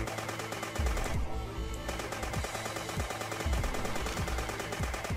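Rapid automatic gunfire in the video game Dead Bits: a continuous machine-gun burst of sharp, evenly spaced shots with a short pause, loud and up front with no talking.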